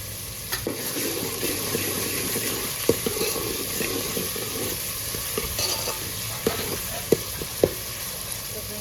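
Whole cumin and salt fry in a pan for egg khima, giving a steady close sizzle broken by sharp taps and scrapes as the mixture is stirred, with no talking.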